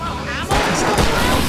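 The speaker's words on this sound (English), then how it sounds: "I'll turn on the fireworks from here and help you out!" Fireworks go off in the Alan Wake Remastered game, a sharp booming burst after a brief quieter stretch, followed by more crackling pops and rumbling blasts, loud and close.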